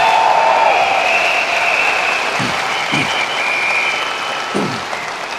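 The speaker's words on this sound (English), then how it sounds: "Give Rob Foster a round of applause." A steady round of crowd applause for an honoree at a business training seminar continues throughout, with a faint sustained tone and a few low thumps underneath.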